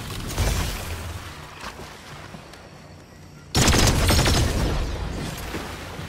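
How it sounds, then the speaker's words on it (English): Sniper and other gunfire in a video game: a dense, noisy stretch of shots and game sound, then a sudden loud burst that cuts in and stays heavy, with voices talking over it. "I just got sniped!"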